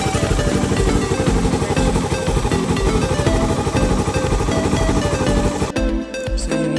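A Suzuki Raider 150 motorcycle engine runs with a rapid, rattling beat, loud and close, then cuts off abruptly near the end.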